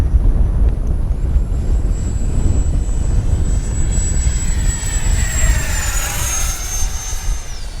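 FMS 70mm Yak v2 RC jet aircraft during a speed trial, its ducted-fan engine a steady close roar with a high whine that holds level and then sweeps down as it passes, running the whole time with no speech.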